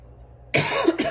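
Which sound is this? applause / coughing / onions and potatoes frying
coughing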